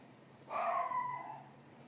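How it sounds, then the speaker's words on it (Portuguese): A dog barking from a downstairs room indoors, one sustained, whining bark-like call heard faint and at a distance, with no other sounds around it. "Não sei se vocês estão ouvindo os latidos, mas ela tá lá embaixo"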